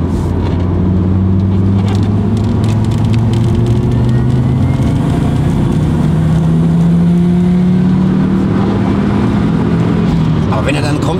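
Audi RS2 pulling at full throttle in fourth gear from 2000 rpm, a loud, steady engine drone with a slowly rising pitch, heard from inside the car.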